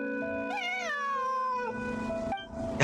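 A cat meows in a video game with a long, wavering, tonal cry that rises and then slowly falls, followed by a shorter second meow. Both are close and clear, with no talking.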